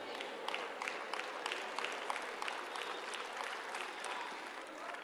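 A church congregation at a sermon claps together in a loose, steady burst of applause, many hands heard at a moderate distance and fairly faint, with crowd murmur underneath.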